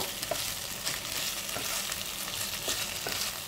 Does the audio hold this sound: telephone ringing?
no